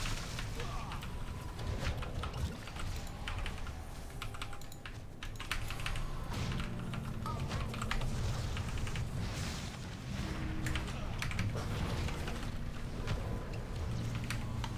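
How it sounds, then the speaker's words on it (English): Rapid, steady clacking of keys on a new computer keyboard, close and continuous, with a voice talking over it and dense game sounds behind. "Trying to get used to this new keyboard."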